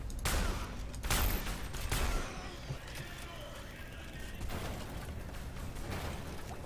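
Gunfire from the SiN Episodes: Emergence video game crackles in rapid bursts, with a loud volley early on followed by quieter mechanical and ambient game noise.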